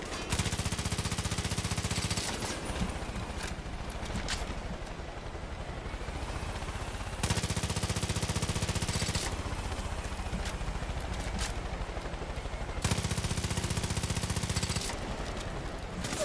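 Video game gunfire comes as dense bursts of rapid automatic shots in three long blocks, with quieter rumbling gaps between them and no talking.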